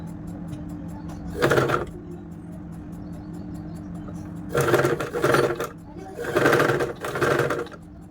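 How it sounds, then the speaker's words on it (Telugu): Sewing machine stitching two pieces of a kids' frock together, heard in several short close bursts of fast stitching over a low steady motor hum, with no speech. "ఇప్పుడు స్టిచ్ వేసుకోవాలి ఈ రెండు జాయిన్ చేసి స్టిచ్ వేసుకోవాలి చూపిస్తాను చూడండి"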